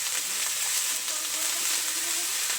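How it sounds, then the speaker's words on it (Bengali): Spices with salt and ginger sizzle in hot oil in a pan as they are stirred, giving a dense, even, close frying hiss that holds steady throughout the short stretch. "মশলাগুলো আমি একটু নেড়ে ছেড়ে নিচ্ছি।"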